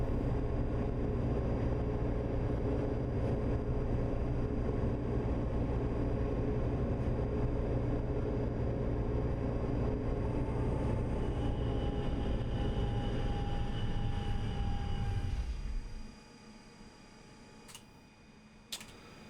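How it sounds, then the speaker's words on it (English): A tram in the video game TramSim Munich passes on the opposite track with a loud, rumbling rolling roar and whining tones that hold steady, then cut off abruptly, leaving quiet interior ambience with a few faint clicks. "Tram on the opposite side"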